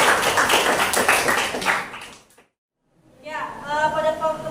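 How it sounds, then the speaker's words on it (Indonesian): A class claps hands together for about two seconds, a close, dense patter that cuts off abruptly into silence before a voice starts speaking. "Tepuk tangan untuk kita semua."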